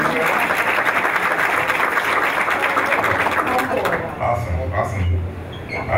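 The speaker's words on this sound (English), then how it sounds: "so let's give them a round of applause as well." Audience members clap at a board of education meeting, a dense burst of applause filling the room for about four seconds before thinning out as a voice begins speaking.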